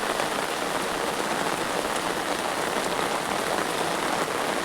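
Rain pours steadily onto a chili field, a dense, even hiss of drops on leaves and ground that holds at a constant level with no voices.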